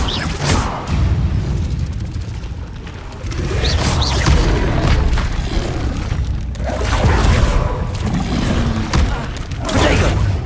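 Repeated blasting explosions from the Confringo spell in Hogwarts Legacy boom and crash through a spell-driven fight, loud heavy bursts arriving in irregular waves alongside clattering combat noise.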